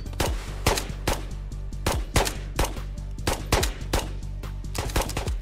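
Rapid bursts of gunfire in the VR shooter Ghosts of Tabor, a firefight on Tabor Island, with a dozen or so loud close shots in uneven clusters over a steady low background hum.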